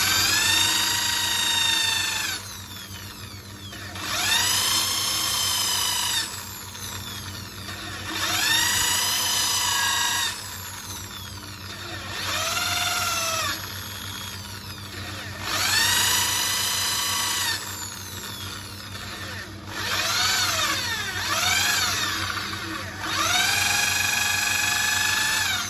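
A Gideon's Weapon shofar horn, tuned to drone a low G, sounds a series of about six sustained blasts, each lasting a few seconds and bending slightly in pitch, with short breathy pauses between them.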